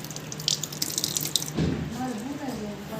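Water from a household tap splashes and trickles into a basin, faint and close, with a voice and adult talk partly over it.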